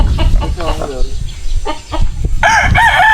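Chickens cluck nearby while voices talk, then a rooster crows loudly and clearly at the end.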